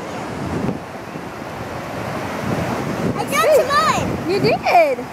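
Ocean surf rolls in on Daytona Beach under gusty wind buffeting the microphone, a constant wash of waves with children's high voices chattering and calling out near the end.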